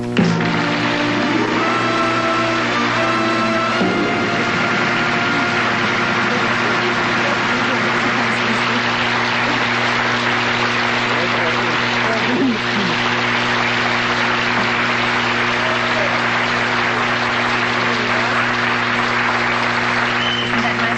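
A studio audience applauds to welcome Maria von Trapp, a loud, dense and sustained wash of clapping that runs unbroken from start to finish with no speech over it.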